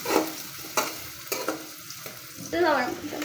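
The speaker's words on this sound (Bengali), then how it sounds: "তো এখন এগুলো নাড়তে হবে" Pumpkin pieces fry in a pan with a soft, steady sizzle while a spatula stirs them with several distinct scrapes and knocks, ending in a louder sweeping scrape.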